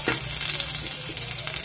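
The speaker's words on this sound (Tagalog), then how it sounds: "Prito-prito lang natin yan." Steady, close sizzling of ginger frying in a hot pan for mung bean stew, a continuous crackling hiss with faint stirring.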